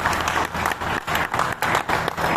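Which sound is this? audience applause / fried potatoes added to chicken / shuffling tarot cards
audience applause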